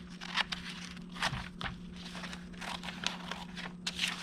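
Scissors cut straight down the middle of a glossy magazine page, with a run of crisp, close paper snips and crunches repeating in an uneven rhythm, with no talking.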